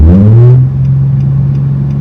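A car's engine surges up in a short loud rev, then drops to a steady, uneven idle rumble as the throttle bounces after aftermarket modifications.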